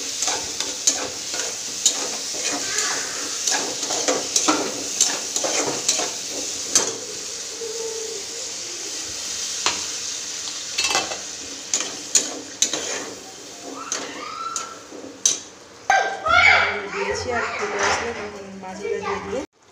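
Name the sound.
rohu fish masala being stir-fried and sizzling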